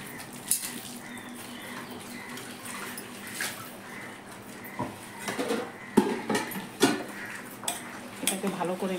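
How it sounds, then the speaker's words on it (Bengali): Dal with added leaves being stirred in a cooking pot, a spoon scraping and knocking against the metal in irregular clinks and clatters, louder toward the end, over a low background murmur. "এটাকে ভালো করে নেড়ে দিই, পাতাগুলোও সিদ্ধ হয়ে যাবে।"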